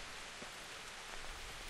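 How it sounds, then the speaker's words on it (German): Steady rain falls in the medieval video game Kingdom Come Deliverance, a soft, even hiss of drops spread across the whole scene with no voices and no pauses. "Jetzt regnet es auch noch."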